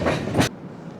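A Sriganganagar Express passenger train runs into a station on a loop line, giving a short burst of rumbling wheel noise that swells briefly and then cuts off to a quieter background hum.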